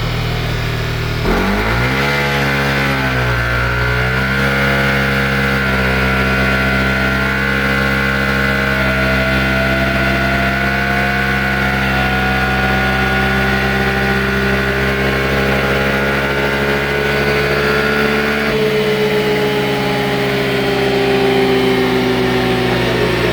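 An Aracer SuperXX-tuned motorcycle engine, set to a negative 120 injection angle, revs up sharply, settles into a loud, steady high idle with rising pitch, then drops back, close and alone.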